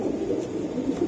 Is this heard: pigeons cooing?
yes